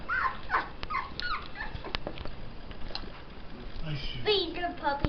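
Young puppies whine and whimper in thin, high, wavering cries, several overlapping in short bursts close by, with indoor background noise and a few brief clicks and knocks throughout.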